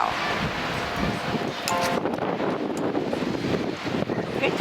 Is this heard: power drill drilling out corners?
no